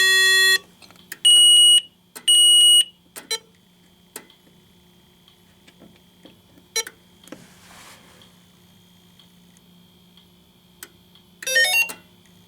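Fire alarm panel horn and strobe sounding during a system test: a few loud electronic beeps early on, then scattered clicks and faint ticking over a low hum, with a final burst of tones near the end.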